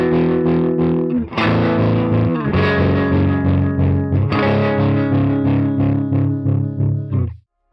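CorOS synthesizer effect applied to a sine wave, a sustained pitched tone with pulsing, warbling modulation over several held notes, loud and close, ending abruptly.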